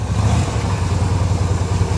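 A low-mileage vehicle from a government auction idles with a steady, close, throbbing rumble and a faint pulsing rhythm, with no other sounds.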